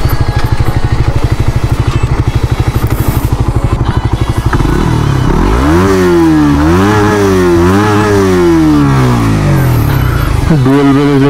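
A Suzuki GSX-R150 motorcycle with a dual exhaust runs loud and close, first a steady pulsing idle, then repeated revs that climb and fall in pitch, ending with a sharp rise.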